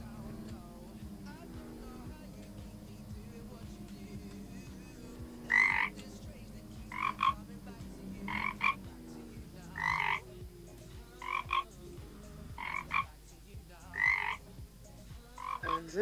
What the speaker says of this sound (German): Schlimmer als der Frosch, der bei uns quakt,